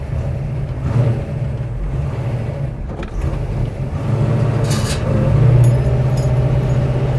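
A 1971 Plymouth Hemi Cuda with a double-disc racing-type clutch rumbles at idle, then its engine swells louder as the revs climb for a burnout, a low, throaty sound close to the microphone.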